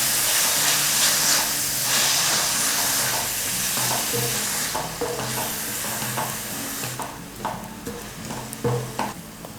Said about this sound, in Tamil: இப்போ வந்து துருவின வெங்காயம் சேர்க்குறேன், அப்புறம் பச்சை மிளகா.